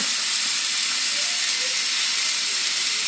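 Venison and peppers sizzle in smoking-hot olive oil in a pan: a steady, close, loud frying hiss with no pause and no talk.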